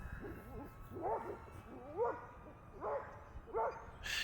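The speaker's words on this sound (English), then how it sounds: "Freaking dog." Dog barking at a drone in a park, several separate bark-yelps about a second apart, moderately close yet fairly quiet, with soft whining tones between them.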